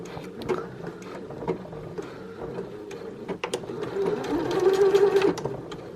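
A sewing machine stitches elastic onto the ends of a fabric face mask, its steady motor whir running throughout in short bursts, getting louder and busier toward the end.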